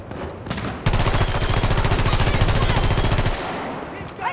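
Rapid automatic gunfire from the video game Redacted, a sustained burst of evenly spaced shots lasting about two and a half seconds, loud and close, with quieter game ambience before and after.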